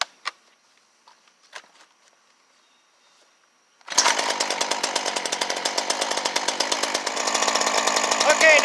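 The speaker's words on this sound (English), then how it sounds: "now you've got your chainsaw running" A Ryobi chainsaw (model RY3716 or RY3714) fires up after a few faint clicks and handling noises, then its engine runs loud and steady at a fast idle close by.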